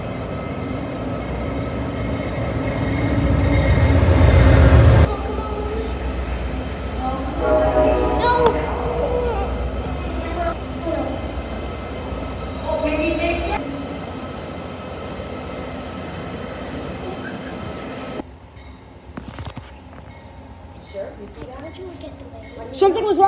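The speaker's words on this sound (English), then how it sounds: "Valley Flyer 488 to Greenfield." Amtrak Valley Flyer 488, a passenger train bound for Greenfield, arrives at Berlin station. A loud, steady rail rumble fills the first seconds, then fades under nearby talking with faint rail clatter and brief squeals.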